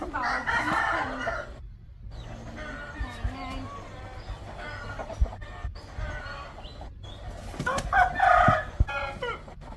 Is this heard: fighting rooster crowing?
yes